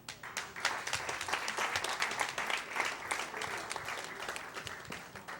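Audience at a June 2014 FRNYA fundraising gala applauds the president, a dense and steady round of clapping that holds at an even level from start to finish.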